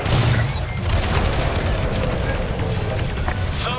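A thermal system blowing apart in Star Wars: Squadrons, a loud, rumbling explosion with a sustained roaring wash of debris and fire that stays dense and close throughout.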